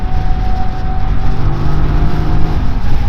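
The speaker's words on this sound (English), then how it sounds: "Looks like a whine from the engine." A QJ Motor motorcycle at about 70 mph gives a loud, steady engine drone with wind roar, and a thin, unusual high whine runs constantly through it.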